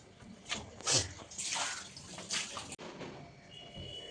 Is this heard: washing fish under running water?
yes